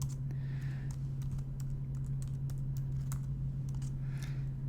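Keys on a computer keyboard are struck in quick, irregular taps, typing an administrative password during a virtual machine setup, close and fairly quiet over a steady low hum.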